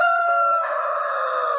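A Tiger breed rooster, a heavy bird of six to seven kilograms, gives one long, loud, close crow that holds steady for over a second with no other sound around it.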